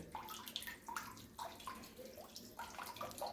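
Water trickles slowly from a narrow pipe into a storage tank, a steady close splashing and dribbling stream with small gurgles and drips.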